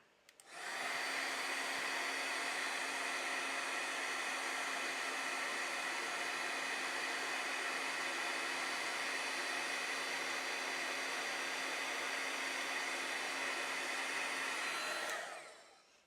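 A heat gun melting embossing powder blows a steady, close whooshing hiss. The sound starts abruptly, holds evenly for about fourteen seconds, then stops, with no talking.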